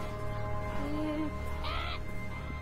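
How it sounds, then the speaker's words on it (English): In the video game Beyond Eyes, a crow gives a couple of harsh caws at moderate distance over a steady ambient game backdrop, with no talk. "Get away, crow!"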